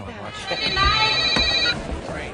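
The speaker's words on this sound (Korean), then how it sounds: "그러던 중 갑자기 울리는 전화." A telephone rings insistently with a bright, repeated electronic trill in a scene from the Mission: Impossible films, with a voice talking over it.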